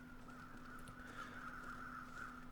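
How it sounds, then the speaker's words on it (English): Crows caw repeatedly in a cold, quiet wilderness setting in The Long Dark, heard faintly and at a distance over a steady low background hum. "Those crows are still there. What are they circling over?"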